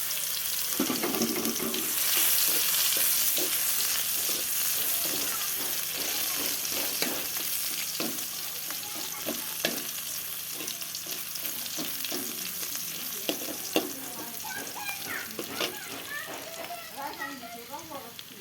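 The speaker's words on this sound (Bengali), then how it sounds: "এই যে রসুন থেতো করে রাখা, দিয়ে দিলাম রসুন" Oil sizzles and spits in a pan as crushed garlic is stirred, with occasional clinks and voices talking nearby.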